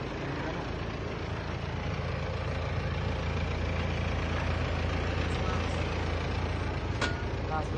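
A car engine idles steadily on a raised, suspended car while someone runs through a driving simulation, a constant low rumble that holds for several seconds with faint voices mixed underneath.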